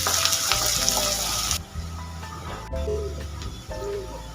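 Two medium chopped onions frying in hot mustard oil in a wok, a bright hissing sizzle at first that drops to a quieter bubbling with some faint clatter.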